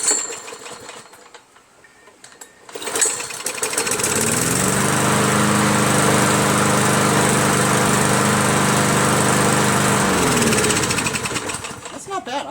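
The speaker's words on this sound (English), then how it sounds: "I like the Predator engine now" A small Predator gasoline engine on an MTD push lawn mower sputters to life, then runs steadily at a loud, droning idle before winding down near the end.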